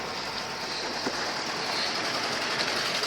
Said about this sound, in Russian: Звук двигателя очень выразительно запоровский, но не такой громкий и тарахтящий